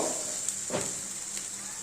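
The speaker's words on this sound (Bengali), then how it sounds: "মশলাটা দেখুন ভাজা ভাজা হয়ে গেছে" Spices frying in oil for duck curry, a steady soft sizzle running through the whole stretch with a brief stir or scrape near the middle.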